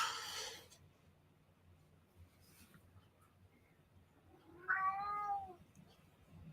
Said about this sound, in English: And a whining cat.